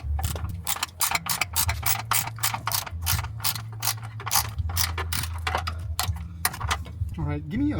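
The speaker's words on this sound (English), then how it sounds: "give me on the electric ratchet" A G35 Coupe's front upper control arm bolts are spun by an electric ratchet: rapid, loud, closely spaced mechanical ratcheting bursts repeat nearly continuously, with brief pauses and a final whirring run at the end.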